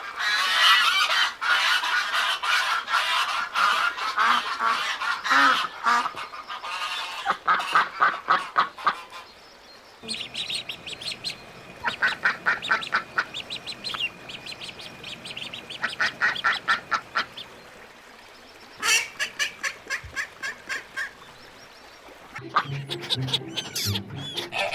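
A flock of ducks quacks and honks loudly for a long stretch, with dense overlapping calls, rapid repeated bursts and brief gaps as the birds call back and forth close by.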